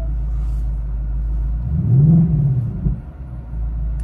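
A 2024 Ford Mustang GT's engine and exhaust rumble steadily at idle, swelling briefly into a louder rev near the middle as drive modes are switched through quiet, sport and track, then settling back.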